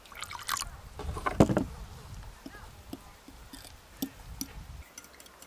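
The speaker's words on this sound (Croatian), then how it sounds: "U senfu ću dodat malo vode." A little water trickles and drips into mustard while garlic is being prepared for an oxtail stew in beer, a brief pouring splash followed by scattered soft drips.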